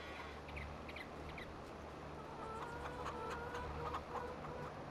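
Chickens at a coop in Farming Simulator 22 cluck and squawk in short bursts over a steady low machinery hum, heard at moderate distance.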